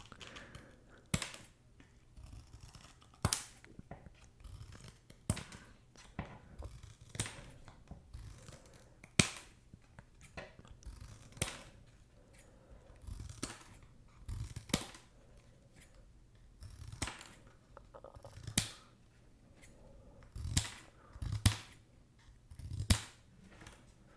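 Scissors snip through NBA player trading cards in a quiet room, a steady series of close, crisp cuts repeating every second or two, with no talk.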